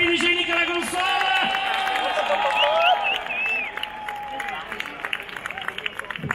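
A crowd applauds and cheers for a radio DJ at the console during a nighttime event in Padova, Italy; the clapping is steady and dense, then thins toward the end.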